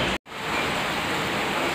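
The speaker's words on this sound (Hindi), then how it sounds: "मस्त यार, अमेजिंग बारिश हो रही है।" Heavy rain pours down in Delhi, a loud, dense, steady hiss after a brief dropout at the start, with no voices.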